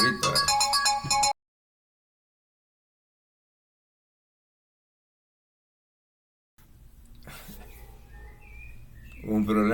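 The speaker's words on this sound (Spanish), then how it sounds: "ahí estaba sonando el teléfono" A telephone ringtone plays as a loud, rhythmic electronic trill for about a second, then cuts off abruptly into silence before quieter background noise returns.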